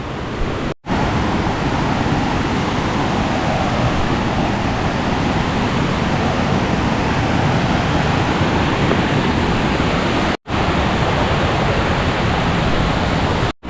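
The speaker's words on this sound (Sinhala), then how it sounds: "මේ තියෙන්නේ යහළ තැන්න දියැලෙන් එන වතුර පාර." Water from the Yahala Thenna waterfall rushes past as a stream, a loud, steady, broadband roar close by, with brief cuts in the sound.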